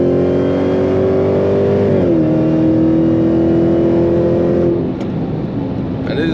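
A 751-horsepower Dodge Charger Hellcat with its exhaust valves opened, engine revving loud and close in a sustained deep roar that dips and steadies at about two seconds, then eases toward the end, with no talking.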